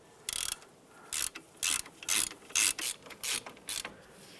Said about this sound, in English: we'll snug those down with our ratchet